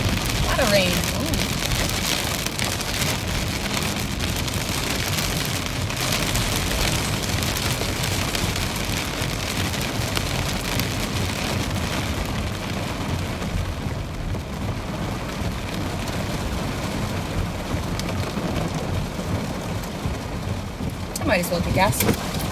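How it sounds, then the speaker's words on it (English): Heavy thunderstorm rain pours steadily and loudly on a vehicle in the Ohio Valley near a gas station, a dense continuous roar lasting the whole stretch. "A lot of rain."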